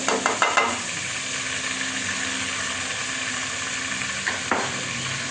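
Ginger garlic paste sizzles in a pan of golden fried onions, a steady close hiss with a few clinks of stirring at the start and again near the end; no talking.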